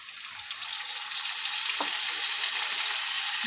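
Potatoes frying in a pan with a ground paste of poppy seeds and green chilies just added, a steady loud sizzle that grows fuller after the first second, with a few soft stirring scrapes.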